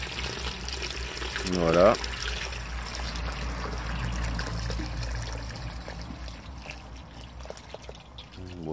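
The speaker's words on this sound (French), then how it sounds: "dans le contenant de 5 litres, et là je viens remplir d'eau." Water pours and trickles into a 5-litre container packed with a handful of grass, a steady soft splashing stream while someone speaks French in short bursts over it.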